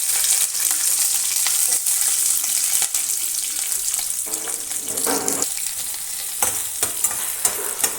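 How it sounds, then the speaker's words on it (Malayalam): Sliced onions fry in oil in a pan with a steady, bright sizzle and occasional stirring scrapes, close and continuous throughout. "ഇതുകൂടെ ഒന്ന് ഫ്രൈ ആക്കി എടുക്കുക."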